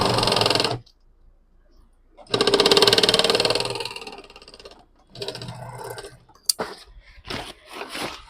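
A sewing machine stitches a handmade crossbody bag, running in two main bursts of steady mechanical whirring with a quieter stretch between, followed by scattered handling clicks and short bumps, close and fairly loud.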